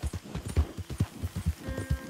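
Horse hooves clip-clop steadily in a video game, a close, even run of dull thuds at a brisk walking pace with no other sounds over them.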